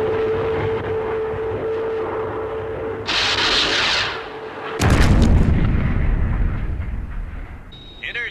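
Gunfire aimed at a target aircraft, heard as a roaring burst of heavy shooting that erupts midway and continues loud and close, following a quieter stretch with a hum and a short hiss.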